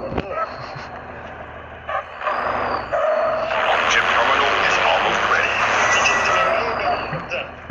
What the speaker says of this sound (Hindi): हेलीकॉप्टर आ गया हेलीकॉप्टर आ गया